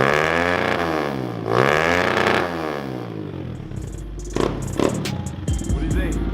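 A Kawasaki KLX110 pit bike engine revs up and down in strong, harmonic sweeps that rise and fall twice, then settles into a rougher, choppy idle with sharp pops, loud and close.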